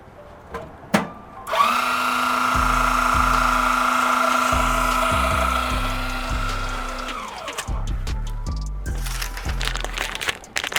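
After a few clunks, a power drill used for mixing spins up and runs steadily for several seconds with a churning, grinding texture, then winds down into clattering handling noises.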